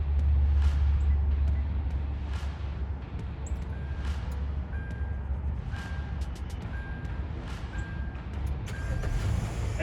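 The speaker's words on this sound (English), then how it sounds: "And here you go, the car started." A 2011-2015 Kia Optima engine, started by remote starter, turns over and settles into a steady running rumble, with a few short high electronic chirps above a continuous low hum.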